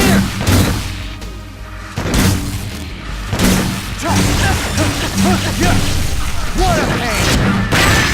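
Enemy gunfire in No More Heroes arrives in repeated sharp booming bursts with short gaps, loud and close, mixed with game effects and no talking.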